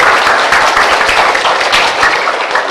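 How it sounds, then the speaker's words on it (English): Applause from the audience fills the room at a Buddhist book launch, a loud, continuous wash of hand claps with no voices. "can we give a round of applause to Bhante Dhammaratana and Venerable Chodron"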